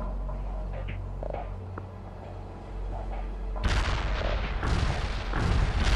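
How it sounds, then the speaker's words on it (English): Heavy artillery barrage in the World in Conflict video game: a low rumble of distant booms gives way to a dense, loud volley of overlapping explosions and thuds rolling on continuously. "Heavy artillery barrage inbound."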